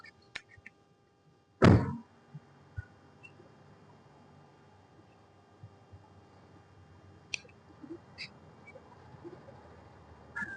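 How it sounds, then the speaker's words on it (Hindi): A Toyota Innova Hycross GX fuel filler flap pops open with a single sharp thunk, followed by a few faint clicks in an otherwise quiet setting. "ये नॉब है फ्यूल का, ओपन करा"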